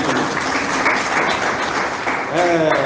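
A church congregation claps together, a dense steady wash of applause that swells slightly near the end, mixed with voices.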